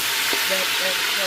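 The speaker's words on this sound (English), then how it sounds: "I've added the grease and I've added my ham and I've let those just fry up a little bit." Chopped collard greens fry in hot grease with ham, giving a continuous close sizzle and hiss with a faint stirring sound.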